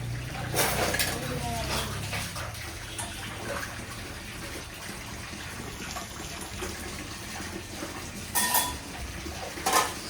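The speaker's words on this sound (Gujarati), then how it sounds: "સવારે 9:15 વાગે વાસણ ઘસે છે" Pots and dishes clank and scrape while water runs and splashes, a steady washing-up clatter with occasional sharper knocks.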